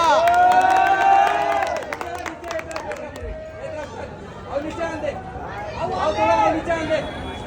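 A crowd at a Chhattisgarhi film screening cheers and chatters, with loud whistles and excited shouts that dip in the middle and swell again toward the end, voices mixed throughout.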